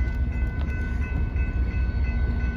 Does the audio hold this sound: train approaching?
yes